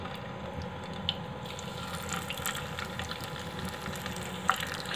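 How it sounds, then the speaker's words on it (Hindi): Eggs frying in hot oil in a kadhai, a steady dense sizzle that holds level throughout, close and fairly loud, with a couple of small pops and no talking. "एक कढ़ाई में मैंने तेल गरम किया इसमें डालेंगे अंडे"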